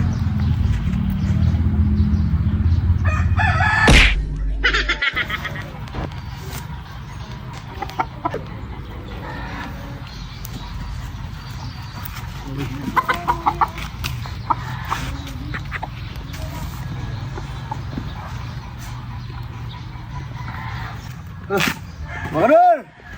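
A rooster in a Filipino backyard clucks and calls intermittently amid ongoing casual conversation and background bustle, with a louder burst early on.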